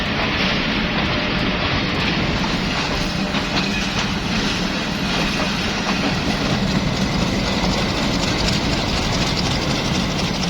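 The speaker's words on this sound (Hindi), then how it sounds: "जहां पटरियों पर ट्रेन दोनों जानिब से गुजर रही है" A train rolls along the tracks at Rawalpindi railway station, a steady loud rumble of wheels and carriages with a clattering rhythm that stays constant throughout.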